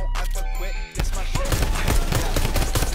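Rocket fire in a shooter video game: a dense, loud barrage of rapid blasts and bangs bursts in after a second of music and keeps pounding without a break.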